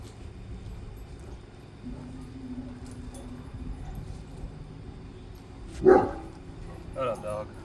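A dog barks once sharply at mid distance, then gives a couple of softer yips, set against a low outdoor hum and faint background music.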